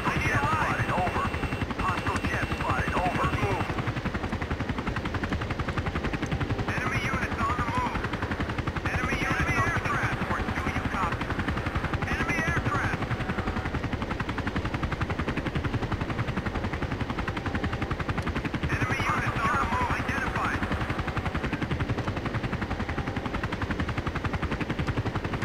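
Machine gun bursts and a helicopter's rotor drone in the video game Battlefield 2, the gunfire coming in repeated bursts over a steady, loud mechanical hum throughout.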